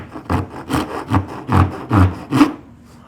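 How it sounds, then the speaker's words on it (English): Hand rasp filing a piece of scrap wood into a round shape, with six or seven strong rhythmic rasping strokes, each a coarse scraping burst, close and loud with brief gaps between. "Now I'll use the rasp to get these even more fine-tuned."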